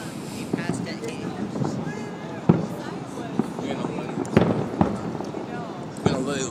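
July 4th fireworks display: scattered sharp bangs and crackles ring out at irregular intervals over a busy outdoor crowd, with people talking throughout.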